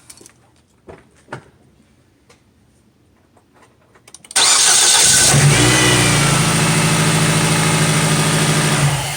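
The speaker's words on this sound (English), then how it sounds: "all you want to do is start the car just for like 3 seconds" A 2010 Nissan Sentra engine cranks and catches after a few quiet clicks and shuffles. It then settles into a loud, steady idle close by.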